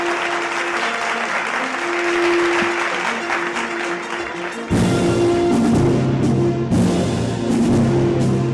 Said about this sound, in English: huge round of applause for Mr.